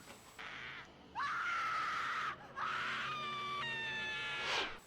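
A woman in the horror film Within the Woods lets out long, shrill screams, two sustained wailing cries broken by a brief gap, loud and close with no talking over them.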